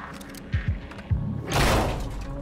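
Door in a video game: a few low thuds and clunks of a mechanism followed by a loud hissing whoosh as it slides open, close and brief.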